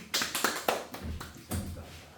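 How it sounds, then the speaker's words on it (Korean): A small group claps a few times, with about six sharp, bright bursts of applause spaced unevenly through a short stretch. "자 박수"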